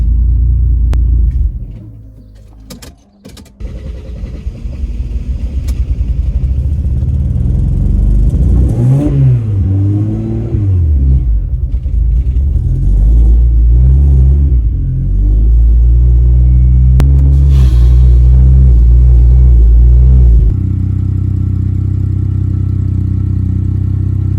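A Mercedes 3.2L M104 turbo engine cranks and catches within a few seconds, then runs loudly and close with a deep rumble and several revs. It drops abruptly to a lower rumble near the end.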